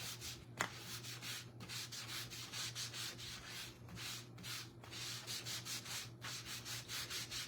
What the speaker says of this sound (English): So we take some wax and we're just gonna rub that over.